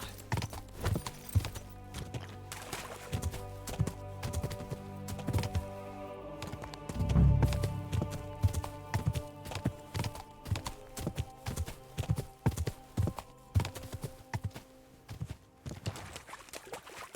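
Horse hooves clip-clop at a steady walking rhythm in the medieval video game Kingdom Come Deliverance 2, up close over a soft ambient music bed, with a brief snort partway through.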